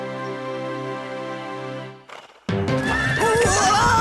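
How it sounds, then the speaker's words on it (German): A horse in an animated Bible story lets out a loud whinny, followed by a busy stretch of sound with hooves clip-clopping, all fairly close. "Oh, Pferdchen!"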